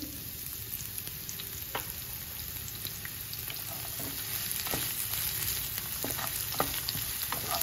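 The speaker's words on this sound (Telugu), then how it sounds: "కొంచెం వేగనివ్వాలా." Chopped onions and beetroot with dried red chilli fry in oil in a pan, a steady close sizzle with occasional crackles and stirring scrapes throughout, no talk.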